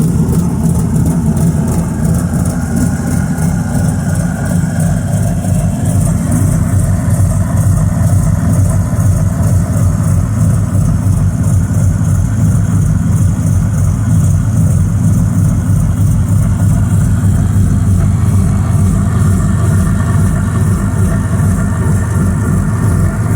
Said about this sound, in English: That lope at idle is my tune.